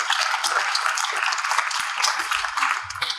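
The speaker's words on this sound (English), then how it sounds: "So applause again for Anne" Audience at a digital conference summit clapping for a speaker taking the stage, a bright, steady patter of many hands at moderate loudness throughout.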